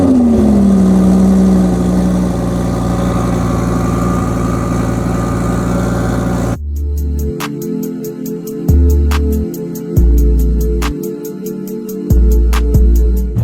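A twin-turbo car at a cars-and-coffee meet in San Clemente gives a long steady drone that cuts to sharp, loud revs from close by, with blips and drops between the bursts.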